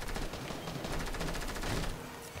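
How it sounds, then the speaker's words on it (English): Rapid gunfire in Fortnite during a duos match, a dense, continuous burst of shots that stays loud and steady for a couple of seconds with no talk over it. "Oh, I'm getting shot at."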